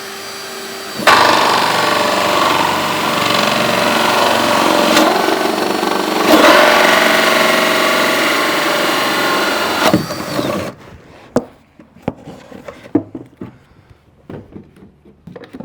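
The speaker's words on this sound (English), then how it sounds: "So now we just got to drill a bunch of these." A loud, steady power-tool whine drones for about ten seconds, then cuts off, leaving scattered clicks and clunks of handling.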